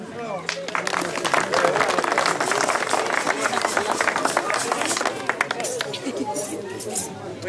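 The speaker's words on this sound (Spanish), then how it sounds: "Un aplauso." A crowd at a zapateo dance event in Antacocha claps and chatters together, steady applause mixed with voices and a few clinks throughout.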